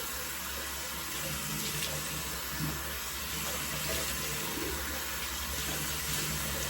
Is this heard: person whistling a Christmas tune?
no